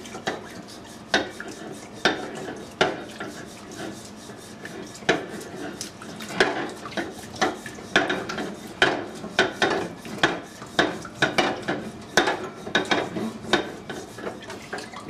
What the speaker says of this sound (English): and I just scrub the outside.